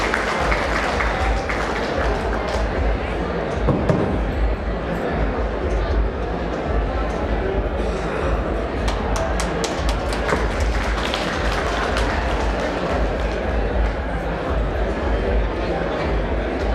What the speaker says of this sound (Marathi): सर्वांनी कृपया टाळ्या वाजवून